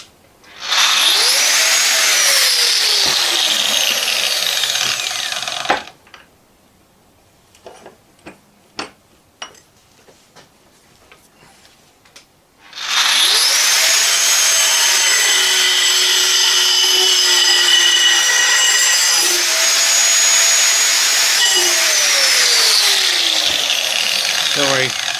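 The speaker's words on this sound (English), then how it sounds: "because I scored it with what was left of the disc cutter, I was able to snap that off" A disc cutter grinds into metal to score it for tractor steps, two long loud whining cuts broken by a quieter stretch of clicks and taps between them.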